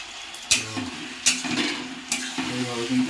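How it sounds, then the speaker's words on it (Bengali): Mutton pieces sizzle in a pan with previously fried onions while a utensil scrapes and stirs them, giving several sharp clattering strokes over a steady low frying hiss. "মাংসটাকে এইভাবে আমরা কষিয়ে নেব"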